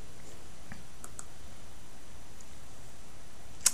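A single sharp mouse click lands near the end on an otherwise quiet background, pressing the Run button in data migration software on a computer.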